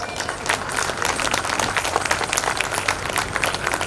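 Audience applauding at a school annual function, a dense, steady wash of many hands clapping throughout, fairly loud and continuous with no talk.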